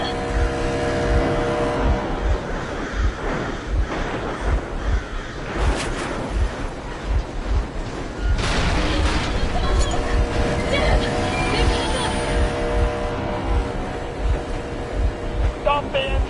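A vehicle engine in the post-apocalyptic game Metro Exodus rumbles steadily and loudly throughout, with surges and harsh bursts layered over it and crow-like caws in the mix.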